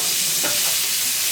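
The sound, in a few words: onion frying with cumin and bay leaves, stirred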